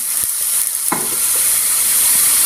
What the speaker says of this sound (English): Then we're going to hit it with just a little Marsala wine